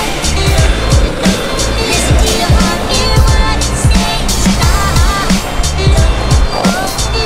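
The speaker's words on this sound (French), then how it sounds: "Je suis actuellement en train de me battre contre le vent." Strong wind buffets the microphone outdoors, a loud continuous roar with rumbling low gusts throughout.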